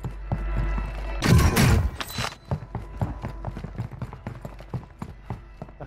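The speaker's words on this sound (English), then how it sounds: "I can hear dual footsteps, bro." Footsteps in the Call of Duty video game: rapid, crisp clip-clop steps patter steadily over several seconds, with a brief louder burst of gunfire-like noise early on, and no clear talk.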